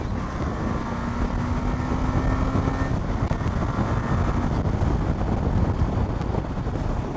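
KTM 390 Adventure motorcycle with the throttle opened, its engine a steady broadband roar mixed with wind buffeting the microphone, sustained and close throughout with a rising tone early on.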